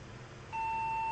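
A PC motherboard in a Socket 370 build gives a single steady POST error beep that starts halfway through and holds loud and continuous to the end, over a faint background hum.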